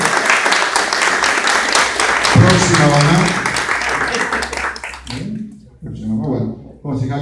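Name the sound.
applause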